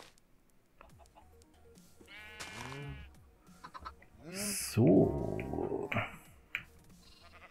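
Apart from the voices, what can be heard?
sheep bleating in Minecraft video game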